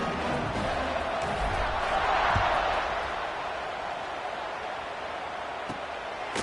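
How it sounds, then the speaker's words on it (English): A stadium crowd buzzing after a score in a college football video game, Washington at Michigan, a broad loud roar that swells then settles into a steady hum. "this crowd is buzzing after that last score"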